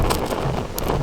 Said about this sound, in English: You can see it's a bit windy here.